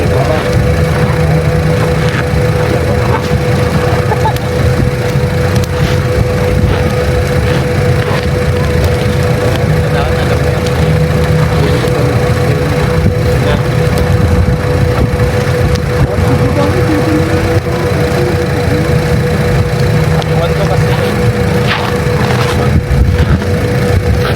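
A steady engine runs outdoors in a mountain setting, holding a constant drone with a sustained tone throughout, loud and unbroken, with people talking faintly over it.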